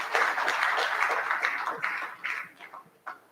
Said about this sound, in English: Can we give that product a round of applause?